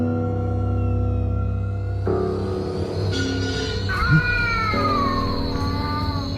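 A cat meows and yowls in a drawn-out caterwaul at night in a temple, heard over a droning musical background with a brief thump partway through.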